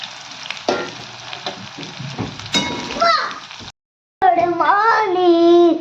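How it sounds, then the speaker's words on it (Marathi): Onion hits hot oil already crackling with curry leaves and green chillies for Maharashtrian kanda poha, giving a close sizzle and stirring scrapes with people talking over it, a brief silent gap, then a voice. "कडीपत्ता मिरची टाकली आहे आता कांदा टाकूया यामध्ये कांदा जास्त टाकायचा"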